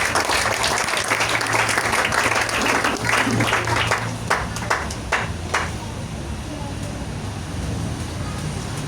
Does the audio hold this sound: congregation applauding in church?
yes